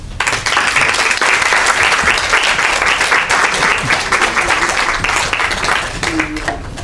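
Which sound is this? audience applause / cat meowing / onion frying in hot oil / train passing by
audience applause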